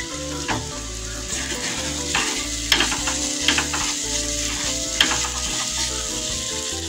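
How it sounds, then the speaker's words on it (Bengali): Spice paste sautéing in a pan for Bengali-style rohu fish curry, a continuous sizzle broken by repeated scraping stirs and a few sharper spatters, close and alone without talk. "মশলাটা ভালো কষানো হয়ে গেছে।"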